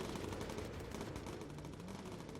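Rapid machine gun fire crackles through the Bomber Crew aerial battle, a continuous fast rattle at moderate distance over engine rumble.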